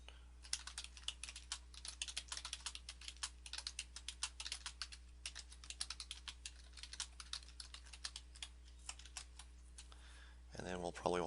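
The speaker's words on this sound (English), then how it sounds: "You can put something in here simply by typing in" Quick, irregular keystrokes on a computer keyboard clatter close by in bursts with brief pauses, ending in a short stretch of faint speech.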